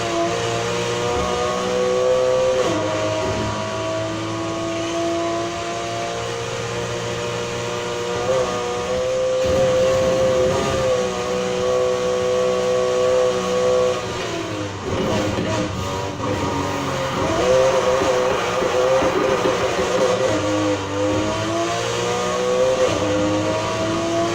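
A 1971 Nissan Fairlady 240ZG racing in Need for Speed Heat revs hard through its gears, the engine note rising and dropping in waves with brief tire squeal, loud and close throughout.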